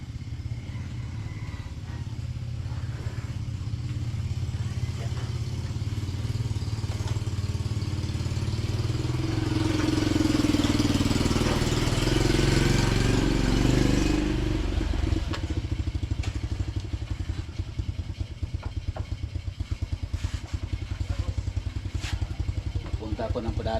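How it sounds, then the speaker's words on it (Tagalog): A motorcycle engine runs steadily at idle for the whole stretch, a mid-pitched clattering drone that swells slightly in the middle, close by and fairly quiet. "Itong una kong motor."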